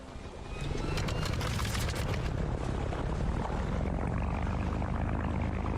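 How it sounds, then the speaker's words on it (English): A floatplane engine cranks on its electric starter motor and catches, building into a loud, steady propeller roar that holds close and continuous. "Thank God this plane's got an electric starter motor"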